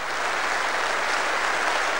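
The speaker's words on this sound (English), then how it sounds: "PC Rathband won rapturous applause." An audience at a Police Federation conference applauds steadily and loudly, a dense wash of clapping with no voices over it.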